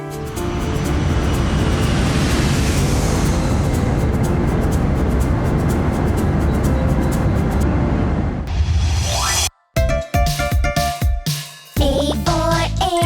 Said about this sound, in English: An airplane flies in the sky, up near clouds very high.